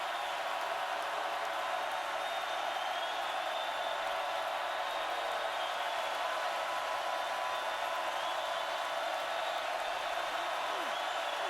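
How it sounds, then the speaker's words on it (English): The stadium crowd at the 2013 Clemson vs Georgia football game sends up a dense, steady roar that fills the whole stretch at an even, sustained level with no breaks. "There's some crowd right now."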